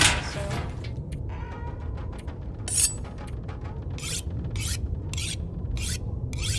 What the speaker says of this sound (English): I'm gonna sharpen my knife, and then we'll put away the whetstone also.